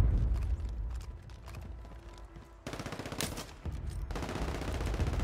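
Gunfire rattles in Call of Duty Warzone, with rapid automatic bursts and single shots of varying loudness. The shots come in irregular clusters, some distant and some close, with the fire growing denser toward the end.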